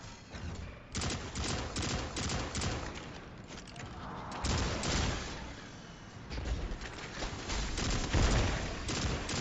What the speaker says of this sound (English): Look at that hip fire.